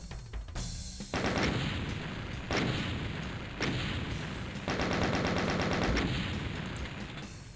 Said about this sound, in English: Makes a difference having the shotgun.